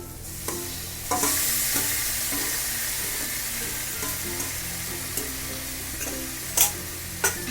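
Boiled flat beans stir-fry over a high flame, sizzling constantly up close, with sharp scrapes and clacks of a spatula against the pan at irregular intervals.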